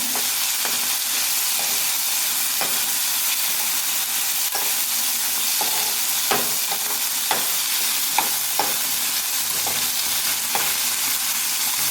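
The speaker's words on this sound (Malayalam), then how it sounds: "ഇത് ഇച്ചിരി സോഫ്റ്റ് ആവുന്ന വരെ നമുക്ക് ഫ്രൈ ചെയ്തെടുക്കണം" Tomatoes fry in a pan with a dense, constant sizzle, broken by repeated sharp scrapes and taps of a spatula as they are stirred, no voices.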